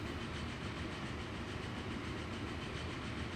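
A train runs along a line in the Transport Fever 2 video game, making a steady dense rumble with faint rail clatter that carries on evenly without pauses and with no talk.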